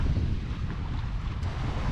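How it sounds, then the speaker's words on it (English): A sailboat making about 4.7 knots under sail in light wind off Ireland, approaching Belfast: steady low rumbling wind buffeting and water rush, continuous and fairly loud, with no talk. "we're moving under sail now"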